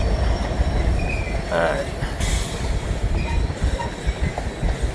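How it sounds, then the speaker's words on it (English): A grain freight train rolls onto a bridge, producing a continuous heavy rumble with clanking rail noise and brief wheel squeals, loud and close, while a voice speaks a word briefly. "Grain train!"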